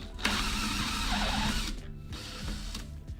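A power drill set to drill mode runs loudly and steadily for about three seconds, its motor whine broken by a few short jolts and surges, with no talk over it.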